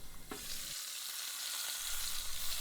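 A steady, loud sizzle of lamb shank searing in a hot pot, hissing continuously with a brief clatter at the start.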